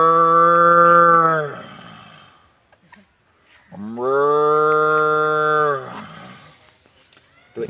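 A voice imitates a cow mooing, giving two long, loud, drawn-out moos, each about two seconds, separated by a brief quiet pause.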